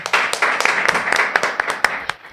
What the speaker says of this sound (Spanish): Aplausos para ustedes